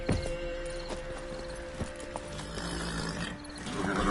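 Geralt's horse Roach galloping in The Witcher 3 video game, a steady rhythmic clip-clop of hooves under ambient game sound, with occasional louder thumps and a faint background hum.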